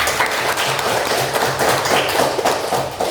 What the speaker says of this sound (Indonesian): Tepuk tangan untuk kehadiran kita pada hari ini